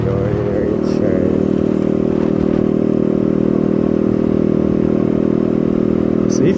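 Motorbike being ridden on a road trip, its engine a steady loud close drone throughout with wind rush and faint clatter.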